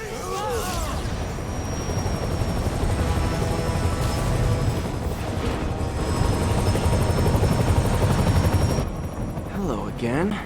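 A helicopter flying off during an escape from a construction site in the Marvel's Spider-Man game, a loud continuous rotor roar lasting about ten seconds, with a voice heard over it briefly at the start and end.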